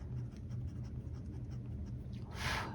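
A fine-nib fountain pen with a marbled body scratches softly across paper, a faint steady scraping under a constant low hum, with a brighter swish near the end.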